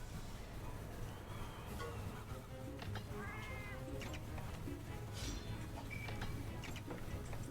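A video game cat gives a few soft, thin meows scattered over a low steady hum, faint and close, with no voices over them.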